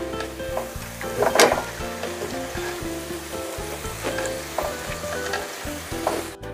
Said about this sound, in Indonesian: Selanjutnya daun jeruk purutnya juga digoreng sampai kering ya.